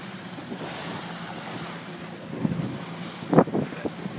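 A 27-foot Judge boat trolls slowly through choppy water, with steady wind buffeting and low wave wash around the hull, plus a few louder splashes near the end.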